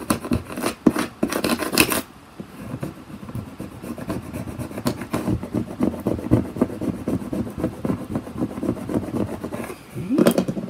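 A Cricut vinyl transfer sheet is rubbed down with a burnishing tool, giving repeated close scraping strokes, a few sharp ones at the start and again at the end, with steady softer rubbing between.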